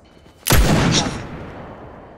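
A single heavy gunshot or blast in the Fortnite video game, sudden and loud, followed by a long rumbling decay that fades over about a second and a half.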